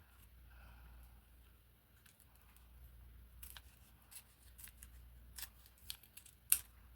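Scissors snip into a fresh, unopened package of polymer clay, a run of short crisp cuts and crinkles growing sharper toward the end over a low steady hum, with no talking.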